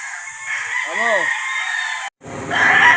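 A gamefowl rooster at a game farm crows once, close and clear, over a steady background of other birds and farm noise, and a voice speaks briefly near the end.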